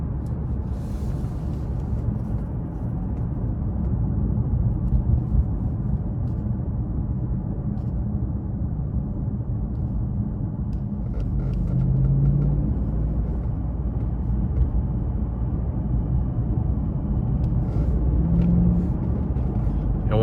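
2014 Mercedes-Benz S550 4Matic with turbocharged engine heard from inside the cabin under hard acceleration, a heavy, continuous low rumble of engine and road noise, muffled and steady.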